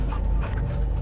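Dog panting in the Guardians of the Galaxy video game, a steady, close breathy rhythm that stays alone with no talk over it.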